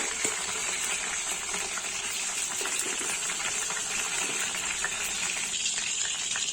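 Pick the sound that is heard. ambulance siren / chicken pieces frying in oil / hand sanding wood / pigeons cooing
chicken pieces frying in oil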